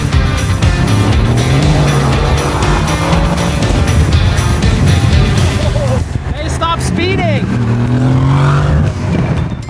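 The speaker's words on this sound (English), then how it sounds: "Alrighty, Eugene, we're getting ready to race." Car engine roaring under racing conditions with tires squealing, loud and continuous, with a voice talking over it.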